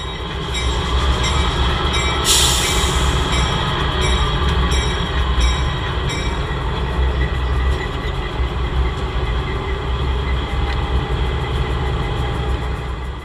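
A West Michigan Railroad train rolling past a flagged road crossing, loud and close, with constant heavy wheel rumble, rhythmic clacking and a brief high squeal early on.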